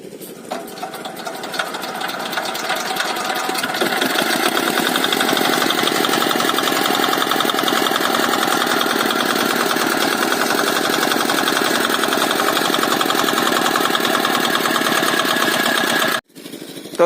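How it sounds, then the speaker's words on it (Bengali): An irrigation water pump engine runs loud and steady, a continuous rapid mechanical chugging that builds up over the first seconds and cuts off abruptly near the end, with no voices. "এখন আর মাঝে মাঝে একটু চলবে মেশিন।"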